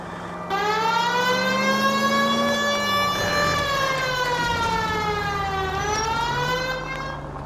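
A police car siren in the video game L.A. Noire wails loud and close, its rising and falling tone running continuously over a low engine hum, with no talking.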